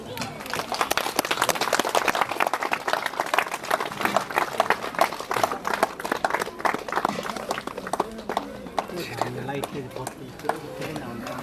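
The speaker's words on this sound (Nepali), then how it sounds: "हामी त्यति बेला ताली मार्न सक्छौँ" Wedding guests clap steadily through a ring ceremony, with dense, moderately loud applause that thins toward the end while a voice talks over it.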